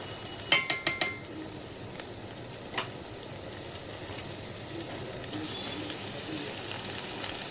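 Mutton fries in a pan with onion, green chilli, curry leaves and ginger garlic paste, making a steady low sizzle after a quick run of metal utensil clacks at the start and a single clink a little later.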